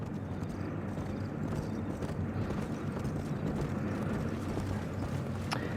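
Horse hooves clip-clop in a steady gait while riding in Red Dead Redemption on PS5, a soft continuous rhythmic patter under low ambient game sound, with no talking.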